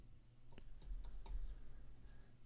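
A short burst of typing on a computer keyboard, entering a web address: a handful of close, crisp key clicks clustered over about a second over a low steady hum, with no talking.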